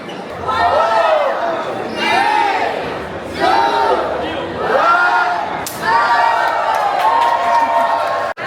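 Large crowd queuing at a Disneyland Paris hotel before rope-drop turnstile entry, a loud, close murmur of many voices rising and falling in waves, with a brief sharp knock near the end.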